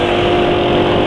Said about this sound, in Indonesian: cuma lagi stasioner gini didengar suaranya halus, lebih halus daripada ketika pakai kendal GT1 kemarin